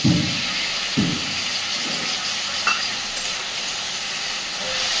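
Coriander powder masala frying in a pan sizzles hard as a little water goes in, steady hissing steam with a few stirring scrapes near the start.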